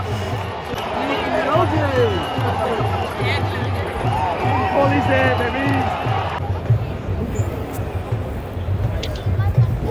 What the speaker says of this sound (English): the crowd is going completely wild